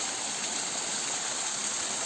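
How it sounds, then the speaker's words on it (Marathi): Steady rushing roar of a waterfall in the green Konkan hills, a continuous hiss of falling water with no voices, unbroken and fairly close. "वॉटरफॉल। याच्या पण वरती आपल्याला जायचं मित्रांनो।"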